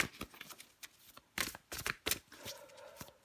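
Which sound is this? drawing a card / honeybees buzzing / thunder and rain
drawing a card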